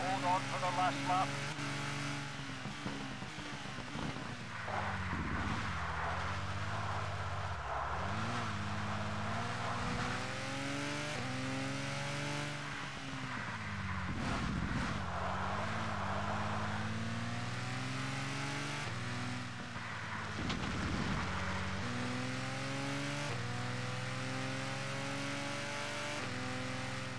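Race car engines from the video game ToCA Race Driver 2 drone and whine loudly throughout, pitching up and down through gear shifts and braking dips, with a voice talking over the roar.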